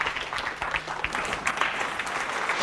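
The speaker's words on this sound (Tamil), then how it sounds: "கயல்விழிக்காக ஒரு நல்ல கைத்தட்டல் கொடுத்துடலாம்" An audience applauding, a dense steady clatter of many hands clapping at once, fairly close and sustained with no voices rising above it.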